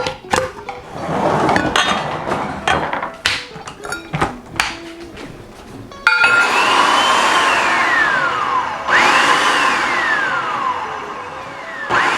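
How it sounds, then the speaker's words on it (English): A blender whirs loudly through watermelon lemonade ingredients with sugar added, starting with clattering knocks and then settling into a strong steady motor whine that dips and surges twice in pitch. "Blend it again."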